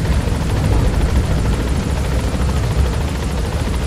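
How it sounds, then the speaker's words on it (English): A helicopter in the video game Metal Gear Solid V flies past, its steady rotor thrum and engine roar loud and continuous, with a faint rhythmic chop throughout. "Did they salute the helicopter as it flies past?"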